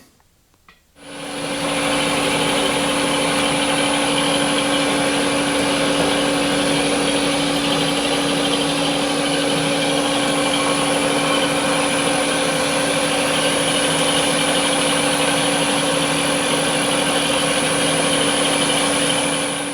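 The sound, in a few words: Wells Index milling machine running with flood coolant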